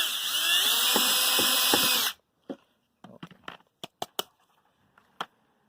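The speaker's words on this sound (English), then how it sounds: "I'm gonna make another hole for this bolt" Power drill whines steadily for about two seconds while enlarging a bolt hole in a Frigidaire dishwasher upper spray arm part, then stops, followed by a few sharp plastic clicks and handling knocks.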